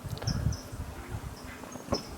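Stingless bees buzzing around a meliponary hive, a steady close insect hum with rustling and small thumps, no talk.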